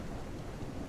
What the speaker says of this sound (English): Heavy rain. Slower move speed.